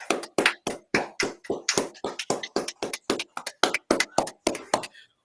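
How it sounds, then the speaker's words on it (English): A small group claps for a few seconds in a birthday round of applause on a talk show, sharp separate claps in a quick uneven rhythm, close and fairly quiet, ending abruptly. "So 5-second round of applause for all 3 of them."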